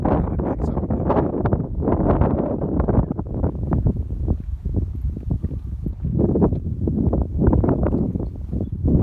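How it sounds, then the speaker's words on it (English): Strong wind gusts buffeting the microphone on a mountain ridge, a steady, loud roar that swells and slackens in repeated surges throughout, with no other sounds standing out. "Finally, the great wind vortex begins to slacken somewhat."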